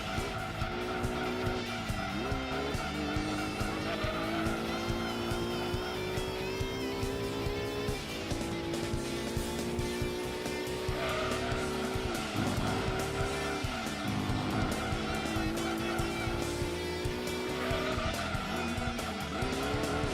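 Tires squeal and skid around a banked turn in Gran Turismo 2, with a continuous engine drone and long, wavering screeches rising and falling across the whole stretch, loud and steady.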